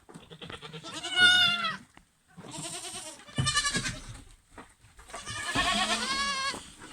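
Goat kids bleat loudly in several drawn-out, quavering calls with short pauses between them, close by and with no talking.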